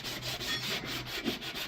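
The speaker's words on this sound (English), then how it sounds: "I'm not putting any pressure on that sandpaper. It's sanding down beautifully." Sandpaper rubs by hand over wood filler in light, quick back-and-forth strokes, a soft close scratchy rasp that pulses in a steady rhythm with no talking.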